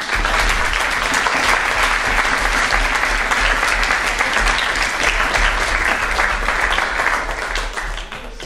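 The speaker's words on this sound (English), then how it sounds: "Now let's clap for just a couple minutes" Audience at a university vice presidential debate applauds in a dense, sustained wash of clapping that stays loud and steady before easing slightly at the end.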